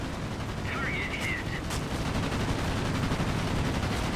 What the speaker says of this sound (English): luckily my incendiary rounds start doing some damage there